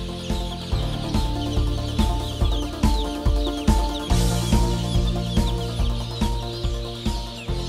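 Coloured broiler chickens at a breeding farm cluck steadily in a dense, close flock, with repeated overlapping calls forming a busy rhythmic chorus and no speech.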